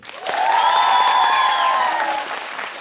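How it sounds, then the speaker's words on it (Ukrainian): An audience and contest participants applaud the jury at a professions quiz tournament, a hall-filling burst of clapping that swells quickly, holds strong, then thins slightly toward the end, with no talk over it. "а тепер зараз і зал, і учасники аплодують нашому вельми вельмишановному журі"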